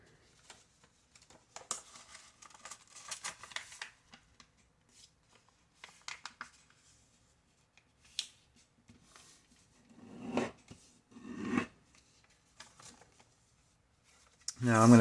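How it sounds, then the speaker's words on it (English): A sheet of paper is folded in half and its creases pressed flat while making a bellows-structure paper model, giving intermittent rustling, sliding and rubbing sounds close up, with quiet gaps between bursts. "Again, you wanna really smooth out, flatten those creases as you go. Okay, so now we need to fold this one in half right here."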